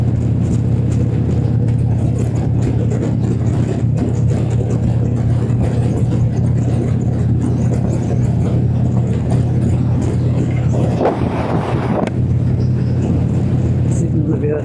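A car cruising on a highway at about 90 km/h, a steady loud engine drone and road rumble filling the cabin, continuous throughout with a brief rise in noise near the end.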